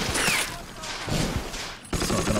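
Gunfire from the Men of War World War II battle around Carentan, a dense burst of rapid shots and crackling fire that stops briefly and then starts again, loud and close.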